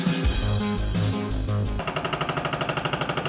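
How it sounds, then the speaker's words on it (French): Jackhammers break up paving on a city square in Lyon. Heavy rumbling bursts give way to a fast, steady rattle of repeated impacts, loud and close, with no voices. "Les marteaux-piqueurs sont entrés en action place des terreaux."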